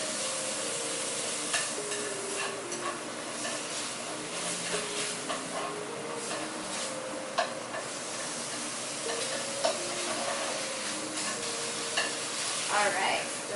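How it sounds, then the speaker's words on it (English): Meat for japchae stir-fried in a pan with a chopstick: steady close sizzling and hissing with repeated scraping and clicking stir strokes throughout, no talking. "the meat is starting to cook up a little bit there. So just a little bit more stir in it."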